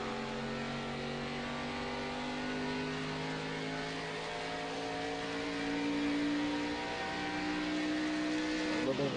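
Race cars in a drag race at World Wide Technology Raceway (Gateway), engines droning steadily with rising and falling harmonic whines, several cars sounding together at a moderate distance under continuous broadcast commentary.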